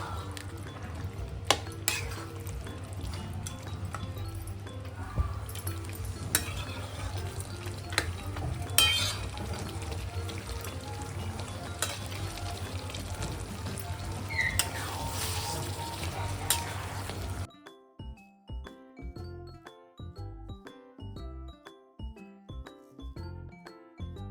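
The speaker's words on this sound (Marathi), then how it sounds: "मटण ह्याच्यात फ्राय करणार परतून घ्यायचं" Mutton sizzling and being stirred in masala in a pan, with a steady frying hiss, scraping spoon and clinks against the vessel, then a quieter stretch of intermittent stirring knocks toward the end.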